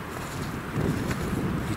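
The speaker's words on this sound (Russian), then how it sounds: "Ветер так задувает." Steady wind gusting through a forest, a broad rushing roar that swells louder partway through, with no voices.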